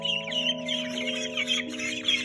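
A small flock of young farm ducks calls in a steady, busy stream of high chirps and peeps, fairly close and with no talking.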